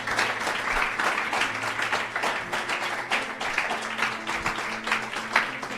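Church congregation applauding during a sermon, continuous loud clapping from many people with some voices mixed in.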